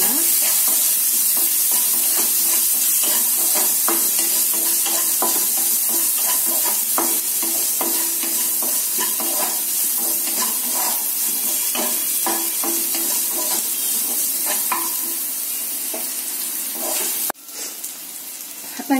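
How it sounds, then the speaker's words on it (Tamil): Onions with mustard seeds sizzle loudly in a hot pan for a Tamil bitter gourd tamarind curry, a constant frying hiss under repeated scraping strokes of a stirring spoon. "வெங்காயம் நல்லா வதங்குற வரைக்கும் நல்லா ஃப்ரை பண்ணலாம்."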